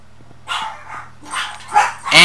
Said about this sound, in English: And the dogs are barking again.